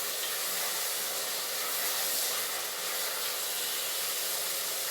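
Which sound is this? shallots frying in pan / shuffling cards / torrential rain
shallots frying in pan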